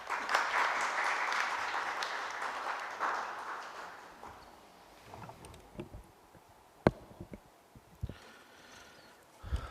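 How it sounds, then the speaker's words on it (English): Audience applause at a formal inaugural ceremony marking fifty years of the Indian Philosophical Quarterly, a sustained clapping wash that fades after about four seconds, leaving scattered claps, knocks and faint room noise. "I request you all to please give him a big round of applause"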